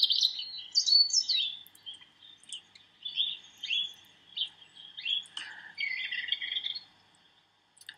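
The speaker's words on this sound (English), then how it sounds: "This is the robin's alarm call." Bright, high-pitched alarm-call chirps and short calls from a European robin, repeated in uneven bursts over about eight seconds, close and clear with no talking.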